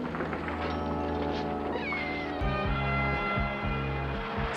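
A pedigree house cat meows indoors, its calls rising over a steady musical bed with sustained low tones and shifting chords, fairly close and clear with no talking.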